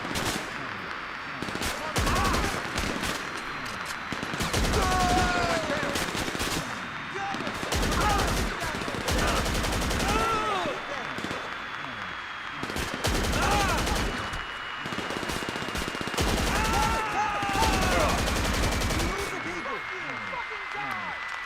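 Gunfire in a GTA 5 Online heist, dense rapid bursts of automatic shots repeating in clusters throughout, loud and close, with a voice speaking over the shooting.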